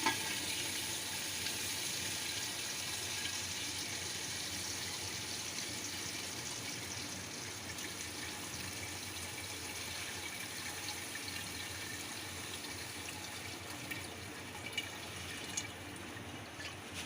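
Lassi poured and strained through a sieve to remove the cream, a steady close trickle and splash of liquid running on without pause.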